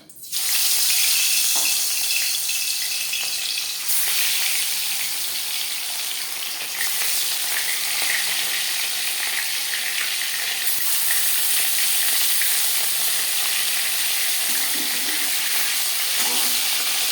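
Marinated katla fish laid into hot refined oil sizzles loudly and steadily in the pan, a dense unbroken hiss close to the listener that continues throughout with no voices.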